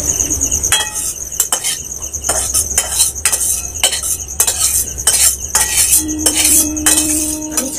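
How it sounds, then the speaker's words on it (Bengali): Dried chilli being ground by hand after a batch of spices in a rustic Bengali kitchen, making a close, rhythmic run of scraping, grinding strokes with small clinks and no talk. "তুলিয়ে নিয়ে এবার লঙ্কাটাকে গুঁড়ো করে নেব।"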